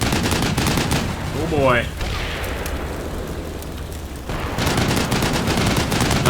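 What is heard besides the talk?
vehicles firing guns in video game Combat Mission: Black Sea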